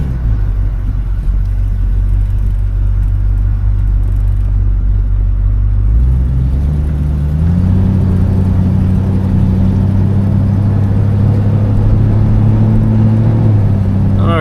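A steady, deep V8 engine rumble from a 1972 Oldsmobile Cutlass with a stock 350 while driving, humming low and even, then shifting up in pitch as the car picks up speed.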